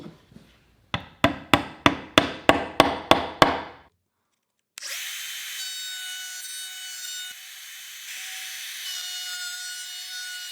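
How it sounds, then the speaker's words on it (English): Wooden plugs set with wood glue are tapped into a wooden board: about nine crisp, evenly spaced knocks in quick succession. A short silence follows, then a steady whirring drone takes over. "using a little wood glue, I'll tap the plugs in place"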